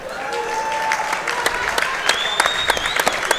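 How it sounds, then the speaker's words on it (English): Audience applause at a 60kg amateur boxing bout at the Eindhoven Box Cup, a steady crowd clap with sharp individual claps popping out and faint calls over it, moderately loud and close. "Ladies and gentlemen, please give them a big applause."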